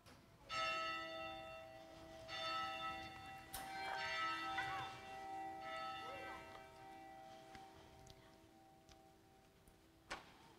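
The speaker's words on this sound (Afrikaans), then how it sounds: "Lei mooi die klok" A church bell rings during a baptism service in an Afrikaans congregation, giving several resonant, sustained strikes that overlap and fade, heard fairly faint and distant in a quiet room, with soft clicks between the strikes.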